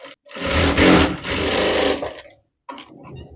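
An electric sewing machine stitching a half-collar blouse in a short, fast mechanical whir that runs for about two seconds, stops, then starts again briefly, close up and without speech.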